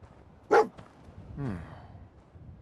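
Dogmeat, the dog in the video game Fallout 4, lets out one sharp bark, then a softer, drawn-out whining yelp, both close and alone.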